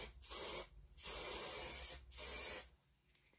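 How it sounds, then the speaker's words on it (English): Texturizing hair spray hisses from a can in three steady bursts of about half a second to a second each, close up and fairly quiet, with short pauses between them. "just re-spray some texturizing spray on there."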